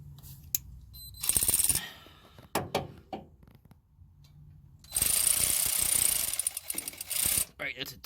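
A ratchet loosens exhaust bolts on a Dodge Dakota during an exhaust leak repair. Two loud, fast bursts of ratcheting clicks sound up close, separated by scattered metallic knocks and handling noise.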